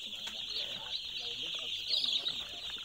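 Two-day-old white broiler chicks in a poultry house make a dense, continuous chorus of high peeping, close and steady, with faint background noise and no clear speech.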